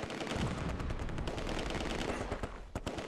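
Gunfire in the World War II strategy game Close Combat II, a rapid run of overlapping rifle and machine-gun shots crackling at a fairly low level with sharper cracks near the end.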